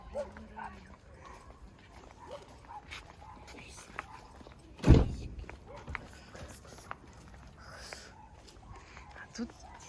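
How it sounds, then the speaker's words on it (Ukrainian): A single dog bark sounds sharply nearby in the middle, over quiet outdoor background and faint murmured voices. "О, який пес."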